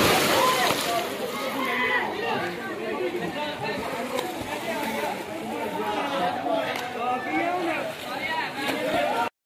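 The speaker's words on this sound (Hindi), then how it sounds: "तो अभी हम आए स्विमिंग पूल पे नहाने के लिए, मैं और कासम भाई और साथ मोहम्मद अली भाई भी।" Water sloshing and splashing in a large outdoor swimming pool in Sialkot, with constant crowd chatter and voices over the busy splashing throughout.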